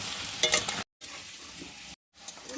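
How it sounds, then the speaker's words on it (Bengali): Potatoes frying in oil, a close crackling sizzle broken by two short gaps of silence, with a brighter spitting burst near the start and no voices. "তেলে ডুবিয়ে ভাজছি"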